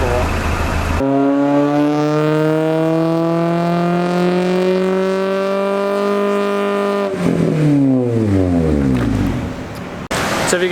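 A stock Honda K20 engine in an Integra with a 3-inch exhaust and header runs on a dyno on the low cam, a loud sustained rising engine tone holding for several seconds, then dropping and revving again.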